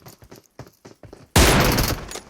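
P90 submachine gun in PUBG Mobile, a loud rapid burst of automatic fire that erupts abruptly after a few quiet clicks and taps and runs continuously to the end.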